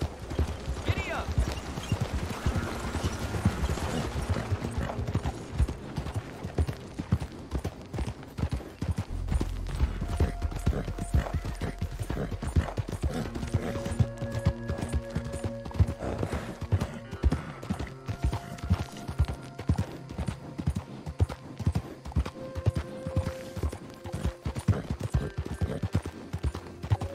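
Horse hooves gallop in Red Dead Redemption 2, a steady clip-clop rhythm running the full length, joined by occasional whinnies and scattered game sounds, with brief voices now and then.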